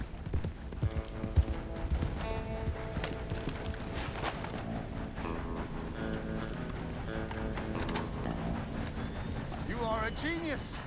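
Horse hooves clip-clop steadily while riding in Red Dead Redemption 2, set under a dense bed of game music, ambient effects and people talking.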